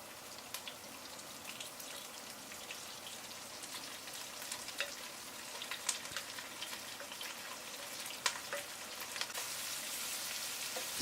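Vegetables frying in a pot as the base for a fish noodle soup, a soft continuous crackling sizzle with scattered faint pops and stirring clicks, fairly quiet and close, with no talking.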